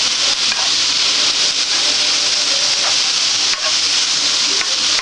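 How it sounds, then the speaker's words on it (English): Julienned vegetables and celery sautéing in oil in a hot skillet, a steady loud sizzle with scraping and stirring rubs throughout, no voices over it. "So I'm going to move these to my hot skillet, and I'm sauteing this for 5 minutes."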